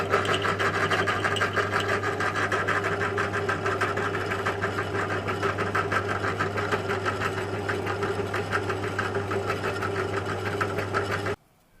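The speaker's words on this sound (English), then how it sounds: "I'm going to drill a hole right through this for a split pin" A power drill bores a hole right through a shaft for a split pin during a Honda H22 engine swap into a DC2 Integra, a steady continuous whine and grind held for about eleven seconds, then cutting off abruptly.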